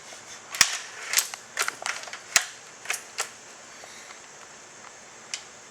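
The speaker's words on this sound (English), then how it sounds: "When we cock the gun," A Tech Force 99 Premier spring airgun being cocked, with a series of sharp metallic clicks and clacks spaced irregularly, close and fairly loud in an otherwise quiet room.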